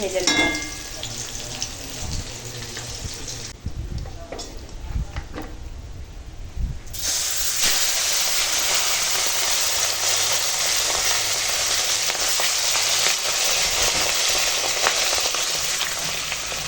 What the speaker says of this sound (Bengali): এখন মাছগুলো ভাজা হয়ে গেছে তুলে নেব